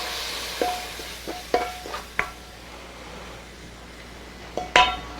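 Stir-fried duck in gochujang sauce poured from a frying pan into a crock lid, with a handful of clinks and scrapes of metal on pottery, close by and moderately loud, no talking.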